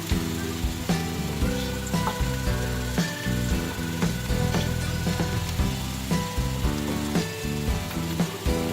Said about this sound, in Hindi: तो हम इसमें लौंग डाल देंगे, दालचीनी और बड़ी इलायची, इसको अच्छे से फ्राई कर लेंगे।